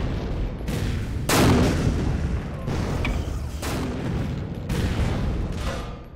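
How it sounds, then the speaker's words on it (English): Repeated grenade explosions in the Empires Source mod on the emp_homeland map, several heavy booms about a second apart over constant battlefield rumble and distant gunfire. "I can't deal with that grenade spam"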